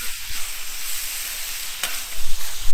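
Noodles stir-frying on a large XXL plancha brasero griddle give a loud, steady, close sizzle, broken by a few sharp scrapes and clacks from a metal spatula.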